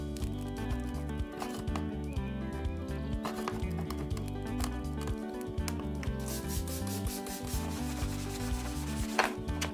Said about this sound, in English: I just take a little scraper, scrape that off